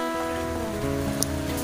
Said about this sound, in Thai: ฝนถล่มกันอีกแล้วนะครับผม